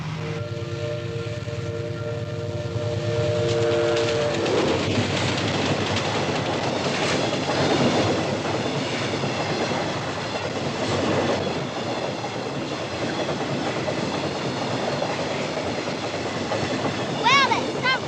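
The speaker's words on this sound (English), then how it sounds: "that stuff train must be 2 kilometres long" A long freight train rumbles past up close at a level crossing, wheels clacking steadily for a long stretch, with a high squeal near the end.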